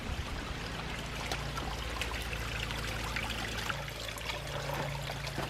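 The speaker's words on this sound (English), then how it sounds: "Right here is a year-round stream that's on our property." A year-round stream on farm property flows with a steady, close trickle and wash of water, continuous and alone.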